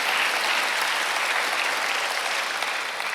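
Congregation applauding during a Sunday worship service in a Korean church, a dense, steady wash of clapping that holds at an even level throughout with no voices on top.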